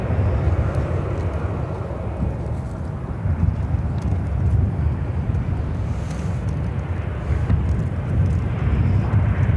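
A Boeing 747 jet airliner at Chicago O'Hare, a heavy low rumbling roar that stays loud and steady throughout, with faint background clatter and no talk.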